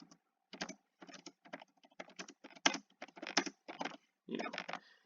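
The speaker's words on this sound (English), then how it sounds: "you can type out whatever you want to say in your email" Computer keyboard keys typed in bursts of quick clicks separated by short pauses, close and fairly clear, while writing an email.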